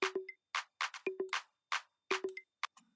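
Short, punchy conga hits in a repeating syncopated loop at 82 BPM, clean and close, with bright slaps and low tones at a relaxed tempo.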